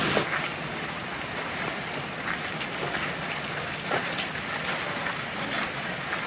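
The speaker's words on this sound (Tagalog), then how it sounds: "Lakas ng ulan." Heavy rain falls steadily in a dense, even hiss, scattered with louder individual drops striking nearby surfaces, continuous and fairly loud throughout with no one speaking.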